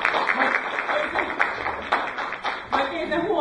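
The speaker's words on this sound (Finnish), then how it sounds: "Voitaisiin melkein antaa isot aplodit ehdokkaille" An audience at a local election panel applauds the candidates, a dense, sustained patter of many hands clapping at close range, fairly loud, with voices mixed in.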